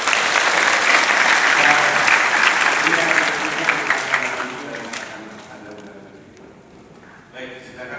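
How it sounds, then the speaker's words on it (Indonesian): Audience applause at a university public lecture welcoming new students, a loud sustained burst of many hands that gradually fades away, with some talk underneath and a voice rising at the end. "Tepuk tangan."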